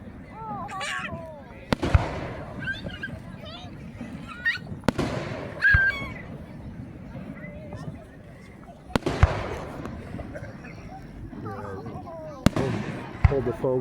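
Backyard Christmas in July fireworks bursting at a distance, several sharp pops and booms scattered irregularly over chatter, with children's voices in the background.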